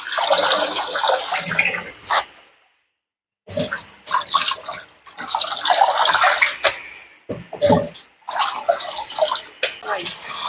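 Soaked seaweed being washed by hand in water, with bursts of splashing and sloshing separated by short pauses, up close.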